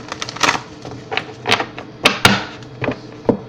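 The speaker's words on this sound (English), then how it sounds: "I've shuffled these up earlier for you guys, so do it a little bit more." A deck of tarot cards is shuffled by hand, giving irregular crisp riffling and snapping bursts of card against card, close and fairly loud, with no voice.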